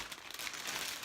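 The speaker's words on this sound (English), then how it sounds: "again with the plastic bag" Thin plastic bag crinkling at close range, a steady rustle that keeps going for about a second with no talking.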